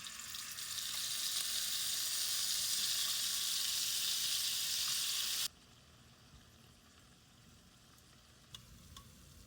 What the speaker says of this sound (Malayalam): അതിലോട്ട് നമ്മുടെ പ്രോൺസ് നന്നായിട്ട് ആഡ് ചെയ്ത് ഫ്രൈ ചെയ്തെടുക്കാം.